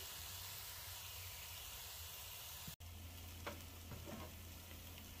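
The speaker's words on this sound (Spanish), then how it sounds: "Y voy a revolver bien para que se unan bien." A potato and carrot filling sizzles steadily in a pan while it is stirred, with a soft hiss and a few faint scrapes after a brief cut in the sound.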